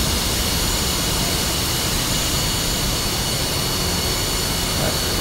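An F-5E fighter's jet engine spooling up in the DCS flight simulator gives a loud, constant broadband roar with a high whine on top, steady and unbroken throughout with no voices.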